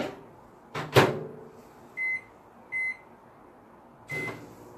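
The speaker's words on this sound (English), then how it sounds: "you put this in the microwave for about 15 seconds" Microwave oven warming brown sugar for a cake: a door clunk, then three short electronic beeps spaced about a second apart, followed by a soft closing thud, with no talk.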